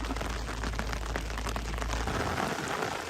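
Steady, dense rain patters on a surface close by, an even hiss with no voices.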